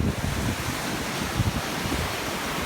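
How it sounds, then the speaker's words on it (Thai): Sea waves wash steadily against the rocky shore of Yanui Beach in Phuket on the Andaman Sea. The surf makes a continuous loud roar mixed with wind noise on the microphone. "จุดนี้คลื่นก็อาจจะ เบากว่า แต่ดูสวยงามนะฮะ"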